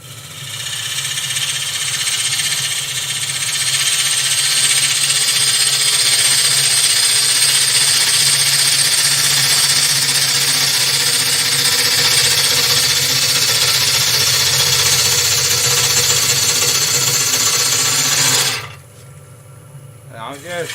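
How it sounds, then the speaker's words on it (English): Wood spinning on a lathe as a sharp tool cuts with its bevel rubbing, a loud steady whirring hum with a grinding cut that runs continuously, then stops abruptly near the end. "I'm rubbing the bevel and allowing a sharp tool to cut the wood."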